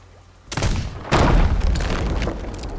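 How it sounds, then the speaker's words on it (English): In Sea of Thieves, a gunpowder barrel blows up against a ship, a loud close blast followed by a second heavier boom and a rumbling crackling tail. "now we're gonna see how much damage a gunpowder barrel does to your ship"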